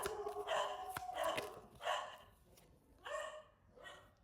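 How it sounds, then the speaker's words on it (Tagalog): A dog barks repeatedly in short, evenly spaced bursts, about four or five barks, at moderate distance and clearly audible on its own. "tahol ng aso"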